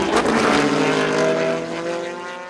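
Vintage Porsche race car at the Laguna Seca Rolex Reunion, a loud nearby engine note that swells as it passes and then fades as the car pulls away.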